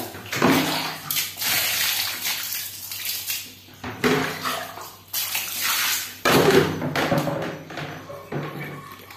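Water pours and splashes in uneven surges over a printed T-shirt, with gurgling and occasional thuds, close and fairly loud, no talking.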